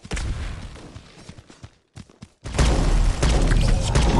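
Gunfire in the mobile shooter Guns of Boom: a few scattered sharp shots and thumps, a brief near-silent gap, then a loud dense burst of continuous firing.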